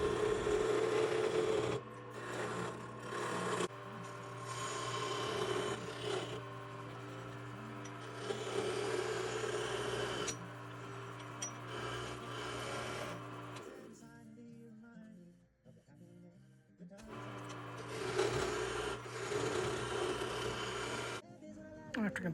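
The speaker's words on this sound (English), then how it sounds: "Then I break out the chisels and start turning it down to a round stave." A windfall maple branch spins on a wood lathe while hand chisels turn it down to a round stave, giving a continuous raspy scraping hum with a brief pause midway.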